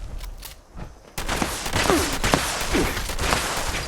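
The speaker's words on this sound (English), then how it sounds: "It's a max level explosive shotgun." Max level explosive shotgun firing in Fallout 76, a handful of loud booming blasts arriving in quick succession after a quieter opening, the later shots overlapping into a dense rumble.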